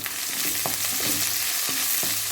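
Mustard seeds fry in hot oil with a steady, dense sizzle and a few distinct pops and crackles, close and loud, with no voices.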